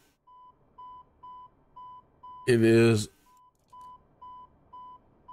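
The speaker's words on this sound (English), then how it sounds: "we're going to have some beeping because we have the door open for a moment" Airbus A320neo cockpit in a flight simulator sounding an evenly spaced series of short electronic beeps while the door is open, broken by a brief spoken phrase partway through.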